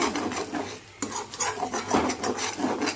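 Eggs roasting over high flame in a pan with salt, stirred with a spoon, giving a steady scraping, rasping sound with soft sizzle, close and continuous with a brief dip before each new stir.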